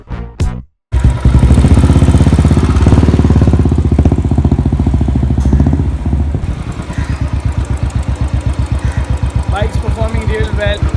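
A Royal Enfield Standard 500 motorcycle fitted with a BMC air filter, ridden for a short spin inside a building. After a brief gap the engine roars loudly with a fast, steady thumping, then settles into a slower, chugging beat close by.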